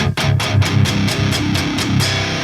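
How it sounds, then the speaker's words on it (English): An electric guitar plays a chugging half palm-muted riff, choppy repeated notes in a quick rhythm, loud and close. "So I just put my hand on there, parallel the bridge just a little bit."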